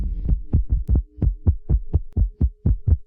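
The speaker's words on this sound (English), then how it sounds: "This is called an irregular heartbeat or arrhythmia." An irregular heartbeat, the lub-dub thumps of an arrhythmia, rendered as a sound effect with a faint hum beneath; about a dozen soft, low beats arrive close and alone, spaced unevenly with a stumble and short pause partway through.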